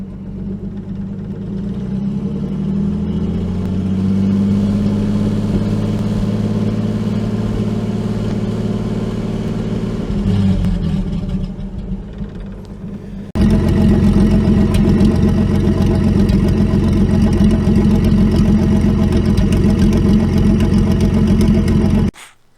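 A 1949 Chrysler 251 engine runs after 18 months unstarted, idling steadily and close, then cutting out briefly before restarting louder and rougher with heavier clatter and rumble.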